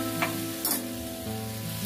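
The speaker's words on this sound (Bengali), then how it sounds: "দিয়ে এখন আমি ভালো করে কষে নেব" Tomato with cumin and coriander powder sautéing in a pan while being stirred, a steady close sizzle broken by a few sharp scraping strokes, with no talk.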